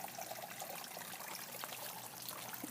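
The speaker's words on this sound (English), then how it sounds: "I just got some water in the well there" Water trickles softly and steadily into the planting well around a newly planted plumeria in an Arizona garden, a faint, continuous close-up dribble with no talking.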